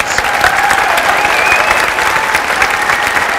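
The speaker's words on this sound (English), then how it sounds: "acknowledging the applause" A theater audience claps loudly and steadily for a plate-juggling comedy act, close, continuous applause with a faint musical tone underneath.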